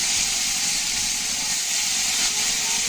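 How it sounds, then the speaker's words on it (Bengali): Onion and garlic dropped into hot oil over tempered spices and a little turmeric, frying for a potato and egg curry, giving a loud, steady, close sizzle and hiss that runs unbroken with no voices. "এখন দিয়ে দিচ্ছি পেঁয়াজ রসুন"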